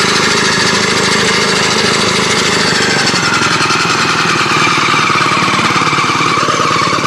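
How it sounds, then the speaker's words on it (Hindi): Homemade small tractor built from Hero Honda and tempo parts, its engine running after a rope start: a loud, continuous rapid chugging and rattling throughout, close by and alone without talking. "ये देखिए ये ट्रैक्टर स्टार्ट हो गया है"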